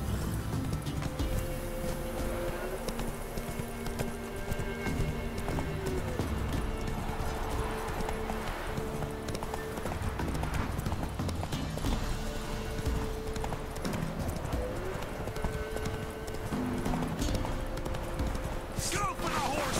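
Horse hooves clip-clop steadily in The Witcher 3 video game, with an occasional whinny, under continuous game music and spoken dialogue.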